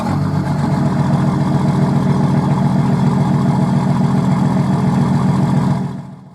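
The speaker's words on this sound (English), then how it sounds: "we're going to go for a drive and we're going to see how the engine is currently running" A Nissan Patrol RD28 diesel engine with a Bosch VE boost-compensated pump, untuned, hums steadily at a constant pitch while driving, loud and close, for several seconds before dropping away abruptly at the end.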